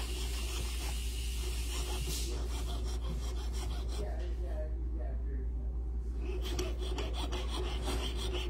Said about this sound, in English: Just gently steer the saw, but move it up and down very quickly.